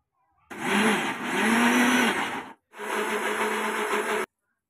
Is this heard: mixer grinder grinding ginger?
yes